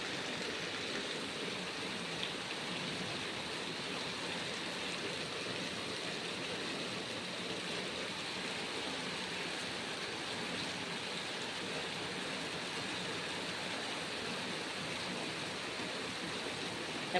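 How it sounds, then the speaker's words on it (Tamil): Rainwater runs along a flooded street in a steady, even rush that holds at the same level throughout, faint and fairly distant, with no voices over it. "பாருங்க வீதியிலெல்லாம் தண்ணி எப்படி போயிட்டுருக்குது"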